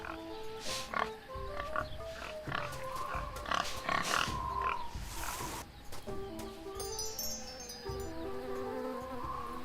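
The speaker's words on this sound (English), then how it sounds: "See, I hear the wind and the pigs." Pigs grunting and snorting in the adventure video game Tales of Monkey Island, several snuffling oinks layered with a buzzing, insect-like drone and wind ambience at moderate, steady loudness.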